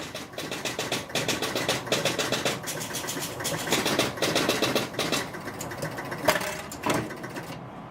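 A Spirit of 76 pinball machine powering on and resetting, giving off a rapid, rhythmic mechanical clatter of relays and stepping units that runs steadily for several seconds before slowing to a few final clicks.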